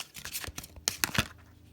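Quick papery riffling and soft slaps of a deck of oracle cards being shuffled, several brisk bursts close up, with no voices.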